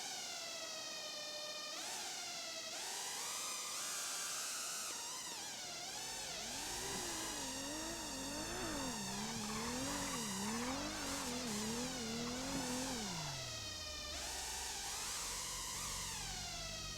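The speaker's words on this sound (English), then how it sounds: "I just heard that car over there, so it's still over there." A racing car engine in a video game revs up and down in sweeping pitch, with tire squeals and screeching between the revs, loud and continuous.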